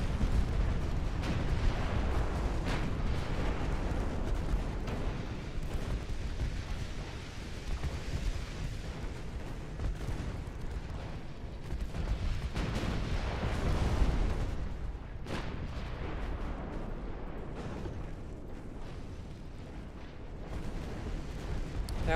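A battleship is hit and sinks in a naval war video game: a dense, continuous roar of explosions, booming artillery and rumbling blasts fills the whole stretch, loud and steady with no speech.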